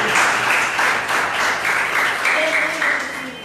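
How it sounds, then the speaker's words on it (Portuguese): A church congregation at a family service applauds with a steady wash of clapping, with voices and a faint tone rising through it as the applause gradually fades. "Você pode aplaudir o nome do Senhor pelos nossos instantes?"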